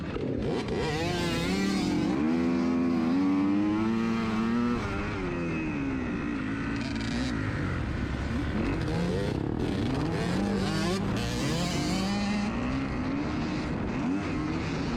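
Dirt bikes race through a muddy hare scramble, their engines droning loud and steady from up close the whole time, rising and falling as the riders accelerate and shift.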